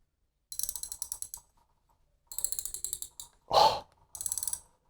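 A new Daiwa 24 TD Black MQ 3000D spinning reel cranked in three short bursts of rapid, even ratchet clicking, close and clear, with a brief breathy exhale between the second and third bursts and no talk.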